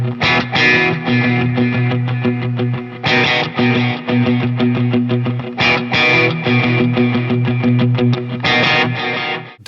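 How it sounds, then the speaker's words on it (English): Electric guitar through a Quad Cortex worship preset with delay, ringing chords and picked notes trailing into washy echoes over a sustained low tone, loud and continuous with no voices. "when you turn on your delay, the guitar just opens up"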